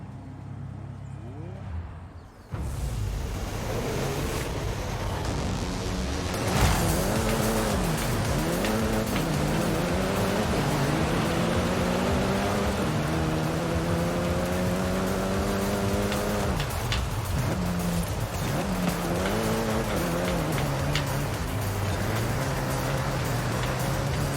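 In Forza Horizon 5, a racing car accelerates and shifts through gears, its engine note climbing and dropping in repeated sweeping revs with some tire noise, continuous and close for over twenty seconds.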